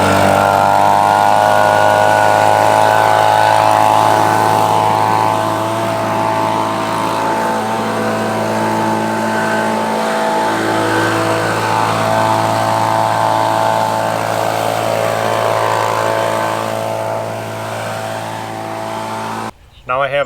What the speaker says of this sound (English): I'm going to start up the leaf blower and just blow the next about 8-foot section